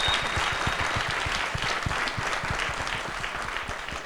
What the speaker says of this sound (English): give them a round of applause again